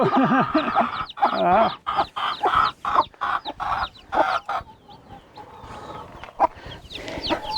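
A Sussex mother hen clucks repeatedly to call her newly hatched chicks outdoors, close and fairly loud in irregular bursts, with faint peeping mixed in.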